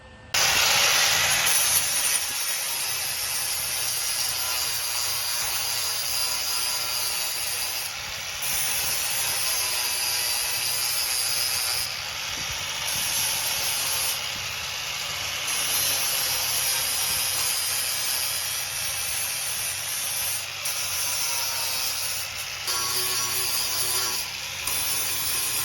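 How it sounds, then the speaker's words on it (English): An angle grinder fitted with a 40 grit flap disc works over a MIG-welded patch on a rusty car body panel, a continuous harsh grinding hiss with small dips in pressure and no talking. "So now it's time to get out the grinder"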